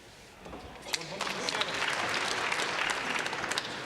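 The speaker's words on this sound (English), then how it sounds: "He thanks our packed audience for their applause" A packed crowd at a 1978 snooker championship final applauds a break, clapping swelling from quiet to a steady roar, with a commentator's voice running over it.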